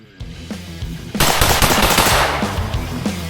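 Rapid rifle fire from an LWRCi IC A5 10.5-inch rifle during speed drills: a few spaced shots, then a loud sustained burst of fast shots up close outdoors.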